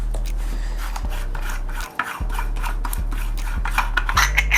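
Metal parts of a DF64 Gen 2 coffee grinder grate and rasp steadily as its collar is worked loose during disassembly, a close continuous scraping over a low electrical hum, briefly pausing near two seconds.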